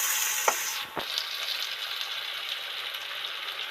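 Vegetables and spices frying in bubbling oil for a mustard bhola fish curry, a close steady hiss and crackle with a couple of brief clinks of a stirring utensil early on.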